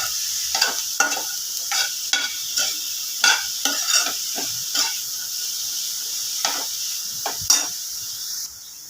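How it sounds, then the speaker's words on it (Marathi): Cluster beans tossed into a hot pan with a little turmeric hiss in a steady sizzle, with repeated scraping stirs of a spatula against the pan throughout; close and continuous, no talking. "त्यात थोडीशी हळद घालायची. त्यामध्ये गवार टाकून द्यायची."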